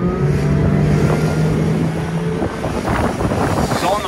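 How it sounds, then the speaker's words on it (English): A Galeon Galia 700 motorboat with Mercury 350HP outboards roars hard as it gets onto the plane, steady loud engine drone with rising pitch, rushing water and wind buffeting close to the microphone. "Trim her down, put her on the plane, run her at cruising speed, and then we'll do a full speed run as well."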